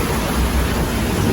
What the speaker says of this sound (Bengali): এখানে কি সুন্দর বৃষ্টি পড়ছে